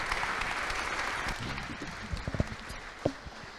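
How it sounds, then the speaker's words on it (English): Applause from an audience at an academic lecture event, steady clapping that fades, then a few scattered claps and low voices at the end. "Give them a hand of applause."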